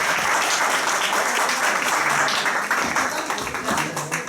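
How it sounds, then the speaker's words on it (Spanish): Loud applause from an audience after a lecture at a study circle, dense continuous clapping from many people that stays strong and then thins slightly toward the end. "Otro aplauso, por favor, a la licenciada."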